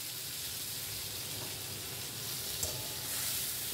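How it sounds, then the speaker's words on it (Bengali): A ground spice paste with crushed cardamom and cinnamon sizzles steadily in a pan, a constant close frying hiss with a faint clink of stirring partway through, no voices. "মশলাগুলো দিয়ে একটু ভালো করে ভেজে নেব। এইবার দিয়ে দিচ্ছি সেই বেটে রাখা"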